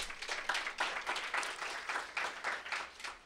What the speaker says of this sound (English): another round of applause for Lydia.